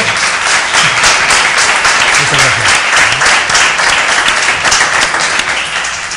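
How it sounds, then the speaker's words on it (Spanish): Loud, dense applause from an audience at the close of a Spanish-language SEO forum, steady clapping filling the space for several seconds with no voices over it. "se merecen un aplauso por este tercer grado"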